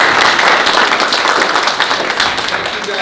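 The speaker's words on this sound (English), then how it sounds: "I think we all give him a round of applause for being here" Round of applause from the audience at a downtown public parking forum, brisk continuous clapping from a crowd, loud and close, with some voices mixed in over the short burst.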